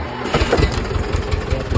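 Mahindra tractor engine starting and settling into a rough, low rumbling idle close by, continuous and fairly loud, no voices.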